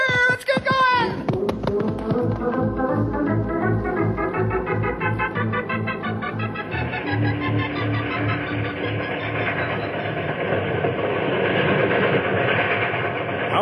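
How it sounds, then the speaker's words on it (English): A steam train in a radio drama runs along winding mountain tracks, opening with a loud hiss and whistle before settling into a steady rhythmic chugging and clickety-clack that builds in intensity. "This train has to wind around and around to get down the mountain."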